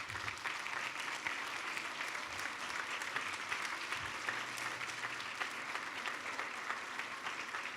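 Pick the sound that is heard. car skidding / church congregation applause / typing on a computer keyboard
church congregation applause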